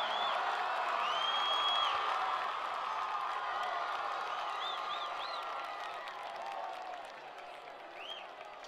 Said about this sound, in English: Fans, up on a big round of applause for all of our Tri-Town Raiders and Raiderettes